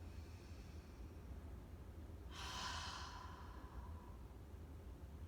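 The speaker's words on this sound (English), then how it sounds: "And then add that forceful breath," Forceful exhale during yoga breathing, a single breathy whoosh of air lasting about a second amid faint room noise, quiet and close.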